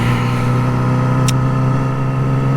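A motorcycle engine, ridden through downtown Dallas, holds a loud steady revving drone after being shifted into the wrong gear, with a brief sharp click midway.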